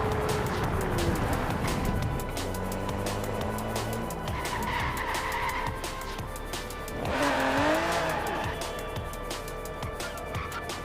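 A 630-horsepower V12 sports car engine revs and accelerates with rising, sweeping tones, layered with tire noise and busy background clutter.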